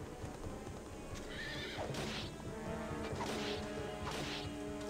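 Horse from the Fire Emblem Radiant Dawn video game, with clip-clop hoofbeats and three loud whinnies spaced about a second apart over busy battle music and game effects.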